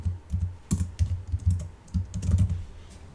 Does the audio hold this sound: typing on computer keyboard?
yes